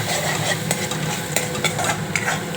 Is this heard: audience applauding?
no